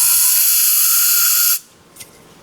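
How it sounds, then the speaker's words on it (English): Brake cleaner sprays into the caliper bores of a 2011 Toyota Sienna in one loud, close, continuous hiss that stops sharply, followed by a brief faint spurt. "And then I'm gonna shoot just a little brake clean down in the bores."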